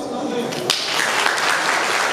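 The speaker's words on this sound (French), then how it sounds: "Je vous demande vraiment un tonnerre d'applaudissements" An audience at an anniversary gathering breaks into applause for an arriving guest, steady clapping under a speaking voice, with a sharp clap standing out early.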